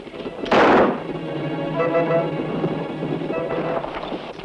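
A gunshot in a TV western episode, one loud sharp blast near the start followed by a rolling, echoing rumble and a softer second thud later, with no talking.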